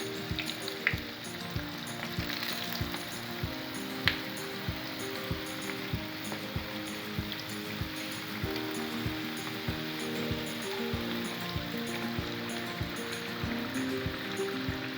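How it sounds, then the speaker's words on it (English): Beef samosas sizzle and crackle steadily in hot oil on a home kitchen stove, with a dense continuous hiss and regular soft popping throughout, fairly close and loud with no talking. "to fry them. You need hot oil."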